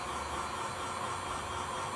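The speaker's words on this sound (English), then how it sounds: "I can't put this dryer on" Hair dryer running on its low setting while drying a custom X-Men Storm doll's hair, a steady soft broadband whoosh with faint hum, continuous and even throughout.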